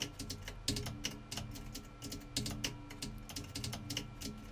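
Close computer keyboard keys tapped rapidly and repeatedly while playing Minecraft, a continuous clatter of quick clicks over faint game sound.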